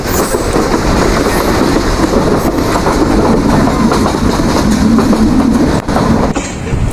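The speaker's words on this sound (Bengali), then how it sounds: "ঘড়ির কাটায় ঠিক নয়টা পঞ্চাশ আমাদের ট্রেন চলে চলেছে সিলেটের উদ্দেশ্যে" Udayan Express train running on tracks between Chattogram and Sylhet, heard from on board as a loud continuous rumble with rhythmic rattling of the carriage and wheels, no voices.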